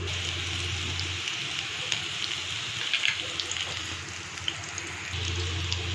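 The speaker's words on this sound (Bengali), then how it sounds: "এখানে আমি ফোড়নে দিব গোটা জিরে নিয়ে নিয়েছি, আর এখানে এলাচ, 3টে এলাচকে ফাটিয়ে নিয়েছি। তেলে এবার দিয়ে দিই।" Whole cumin seeds and three cracked cardamom pods sizzle in hot oil for a vegetarian potato, pointed gourd and paneer dish, giving a steady close crackling hiss with faint pops and a low hum underneath, no talk.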